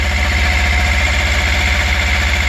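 A Lifan KPR replacement motorcycle's 300cc twin-cylinder engine idles steadily up close, a loud, even low pulsing throb with a constant mechanical hum and no voices.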